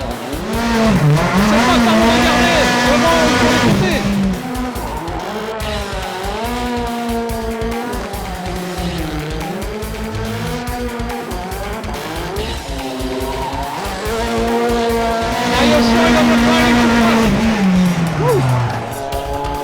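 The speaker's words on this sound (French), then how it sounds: "cette Ford Fiesta accélère plus fort qu'une Bugatti Chiron" A Ford Fiesta drift car at a drift battle, its engine loud and close, revving hard in long rising and falling sweeps, with brief dips between pulls.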